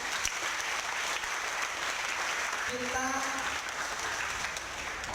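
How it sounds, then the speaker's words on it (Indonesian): An audience at an Indonesian seminar or talk applauds in a steady, dense wash of clapping that fills the whole stretch, with a brief voice breaking in near the middle. "Tepuk tangan sekali ya."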